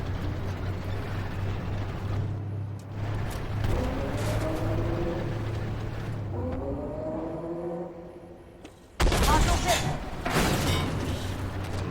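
Tank cannon fire in the Armored Warfare game with a Tier 8 Russian T90, heard as a steady engine rumble and then one loud, sudden boom near the end, while a voice talks over it.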